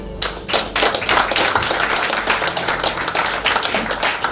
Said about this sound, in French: ça mérite vraiment des applaudissements de tous ceux qui sont ici